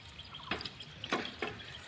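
Rice being washed by hand in water: faint splashes and sloshes recur every half second or so, quiet and close, with no talk.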